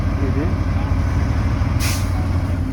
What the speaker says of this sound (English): Air dryer kicked out moisture, tanks are full.